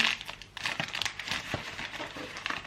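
A plastic packet holding sunglasses is cut and handled, giving continuous close crinkling and rustling with small crackles throughout.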